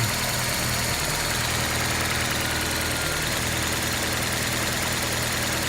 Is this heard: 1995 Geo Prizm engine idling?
yes